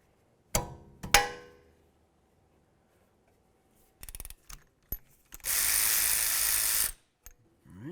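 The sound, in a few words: ratchet loosening brake caliper banjo bolt on Honda CR-V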